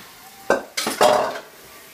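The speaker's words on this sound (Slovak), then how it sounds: "Rýchlo, miešaj mäsko." A spoon stirs meat for spaghetti sauce in a pan, three quick clinking scrapes against metal in close succession, near and fairly loud with no talk.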